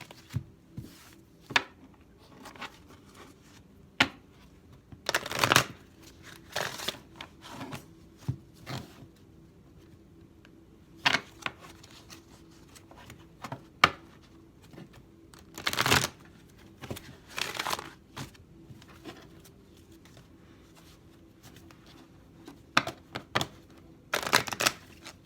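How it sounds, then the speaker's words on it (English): A large, cumbersome tarot deck being shuffled by hand, with soft intermittent riffles and sharper card snaps scattered across a quiet room, no talking. "This deck is just big and cumbersome, and I'm having a hard time getting them shuffled well."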